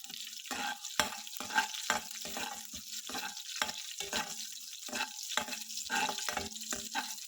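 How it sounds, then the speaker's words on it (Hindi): Green chilies and ginger frying in a pan, steady sizzle broken by repeated scraping stirs of a spoon at a quick, uneven rhythm, close and fairly loud with no talk. "थोड़े से हमारे ग्रीन चिली कलर चेंज होने तक हम लोग थोड़े से फ्राई करेंगे"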